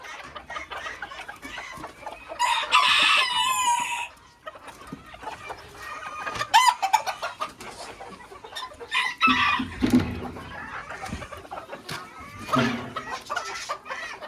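Two young Belgian hens in chamois plumage and a rooster cluck and crow inside a farm pen, with repeated crowing bursts and scattered clucks, moderately close, and no talk over them.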